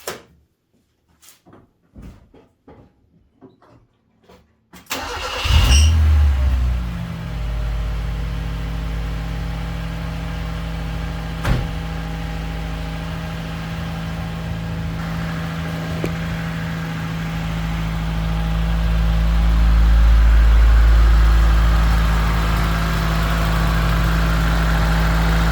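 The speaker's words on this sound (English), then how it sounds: "I'll start it up for you. See what it, or hear what it sounds like." A car engine cranks and catches after a few quiet clicks and knocks, then settles into a steady, fairly loud idle that runs on evenly, with a slight swell in level near the end.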